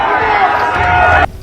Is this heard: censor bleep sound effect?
no